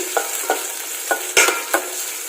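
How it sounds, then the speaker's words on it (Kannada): Steady close-up sizzling of onions frying in oil, with regular scraping strokes of a spoon stirring the pan. "ಈರುಳ್ಳಿ ಒಂದು ಸ್ವಲ್ಪ ಫ್ರೈ ಆಗಲಿ ಎಣ್ಣೆಯಲ್ಲಿ."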